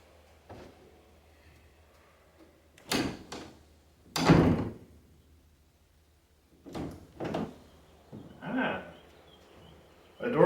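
A shop door with three hinges is swung and handled, giving several separate knocks, bumps and latch clatters spaced across the stretch, moderately close, with quiet gaps between and a brief murmur near the end.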